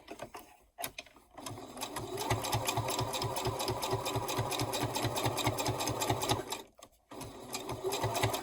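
A sewing machine hems the top edge of a fabric gift bag pocket, its needle chattering in a fast, even rhythm at close range. It runs in bursts with two brief pauses and no talking.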